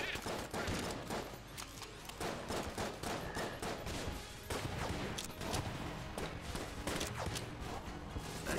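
Rapid gunfire in the Enter the Gungeon video game, a dense, continuous fusillade of sharp shots and impacts that stays loud and close throughout, with no voices over it.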